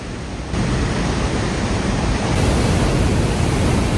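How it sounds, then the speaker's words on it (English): Loud, steady roar of a waterfall near Ouray, Colorado, heard up close with mist coming off the falls, a dense continuous rush that swells slightly after the first half second and holds without break. "it was also very, very loud and a little bit wet as well, just from the mist coming off of the falls"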